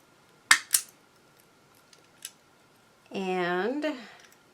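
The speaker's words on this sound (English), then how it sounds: "Punch a hole in that one." A hole punch goes through a paper craft tag, giving two sharp, close clicks followed by a fainter tick, all in a quiet room.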